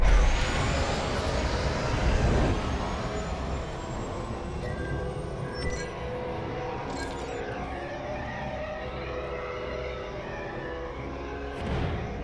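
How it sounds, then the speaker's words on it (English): A starfighter in Star Wars Squadrons throttles up and launches out of a hangar: a loud, sustained engine roar with rising whine and rushing wind, steady and close throughout, with no talk. "Now, throttle up and deploy out of the hangar."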